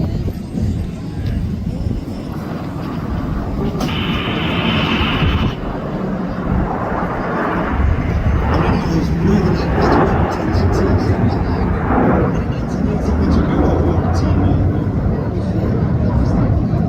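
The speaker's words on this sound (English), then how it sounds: "in from the right, the smoke comes on, Enid flying the Gnat." A Folland Gnat jet in Yellow Jackets tribute livery flies past from the right at the 2024 Toronto Air Show, its roar sustained and loud throughout, with a broadband rush and wind buffeting, while a commentator talks over it.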